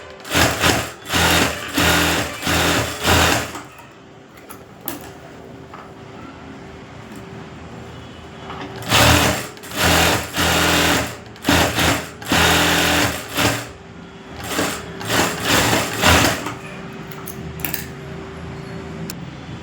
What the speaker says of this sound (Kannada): ಆ ಸೈಡ್ಗೆ ಈ ಸೈಡ್ಗೆ ಒಂದೊಂದು 4 ಸ್ಟಿಚಿಂಗ್ ಹಾಕ್ಕೊಳ್ಳೋಣ